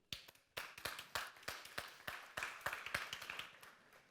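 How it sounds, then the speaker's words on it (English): A small conference audience gives a brief round of applause for a speaker, with scattered, distinct hand claps pattering at a moderate pace, fairly quiet and with no talk over them. "Please, a big round of applause for him."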